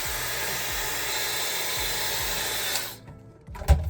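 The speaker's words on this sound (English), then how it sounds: "So I have a freeze button down here for cold air, so I'm going to go ahead and do that again while leaning forward." A hair dryer on its cold freeze setting blows a steady loud whoosh for about three seconds, then cuts off abruptly, followed by a few soft handling clicks.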